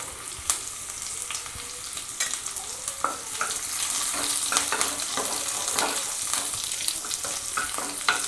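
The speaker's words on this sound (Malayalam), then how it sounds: "നമുക്ക് കൊച്ചുള്ളി അതുപോലെ വറ്റൽമുളക് മുറിച്ച് എണ്ണത്തിലിടുക" Shallots, dried red chili and curry leaves fry in oil after the mustard seeds have popped. The quiet sizzle carries scattered crackles and spatters, and the frying grows a little denser partway through.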